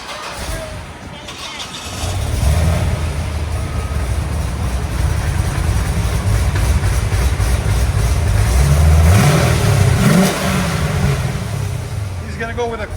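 A 2006 Chevy Corvette Z06 with a cammed 7.0L V8, headers and X pipe revs loudly and close, its deep rumble rising and falling through several throttle blips after a short quiet start.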